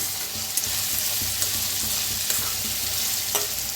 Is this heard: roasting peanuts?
yes